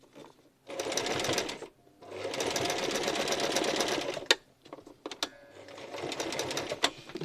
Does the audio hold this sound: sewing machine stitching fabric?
yes